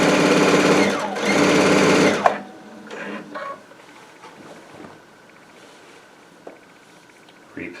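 A Baby Lock Altair sewing machine stitches quilt binding in a loud steady run of about two seconds, then stops, leaving quiet handling noises and faint clicks.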